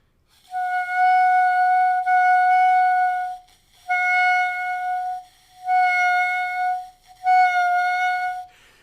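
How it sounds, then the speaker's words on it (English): Five sustained notes played on just a clarinet mouthpiece and barrel with too little air, each starting faint and breathy and then swelling into a fuller, reedy tone, separated by short silences. "where it starts not really well and then grows into an actual sound"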